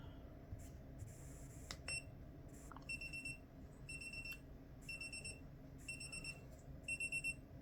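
An F4 flip timer cube's alarm going off, repeated bursts of high electronic beeps in a steady rhythm, faint over a low background hum.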